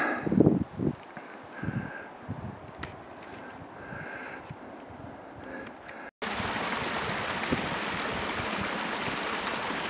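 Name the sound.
creek flowing in the Canadian Rockies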